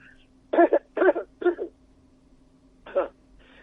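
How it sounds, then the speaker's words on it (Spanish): Four short, harsh coughs in quick succession, then a pause and one more, close and fairly loud with a steady low hum underneath. "a ver, voy a toser"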